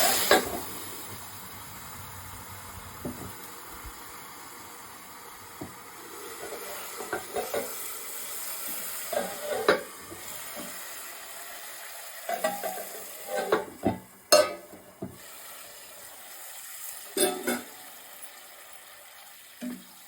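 Hot water goes onto hot vermicelli in a pan, giving a soft, continuous sizzle broken by scattered clinks and scraping stirs of a utensil against the pot, close and fairly quiet with no talking.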